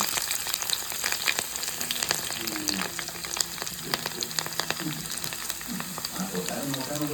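Green chillies, ginger and garlic sizzle and crackle in hot oil alongside popping mustard seeds, with steady close frying and light stirring scrapes throughout.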